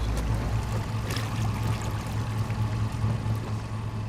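A boat moves along the polluted Reconquista river, its engine and hull wash making a steady rushing, churning drone that stays loud and unbroken throughout, with no talk.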